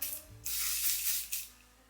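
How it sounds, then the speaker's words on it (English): A Sisley Paris facial spray mist released in a few close, soft hissing bursts, one long puff followed by a shorter one, in an otherwise quiet room. "we're gonna use the Sisley Paris spray"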